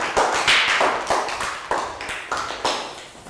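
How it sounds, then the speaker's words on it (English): A Year 3 English class claps in unison, about eight sharp group claps in an uneven rhythm, each ringing briefly in the room before the next. "Round of applause."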